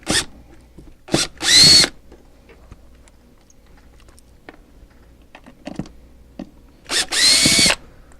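A power drill runs in short whirring bursts while removing screws from a booster pack battery case, close and loud against a quiet room, with small clicks and handling noises between bursts.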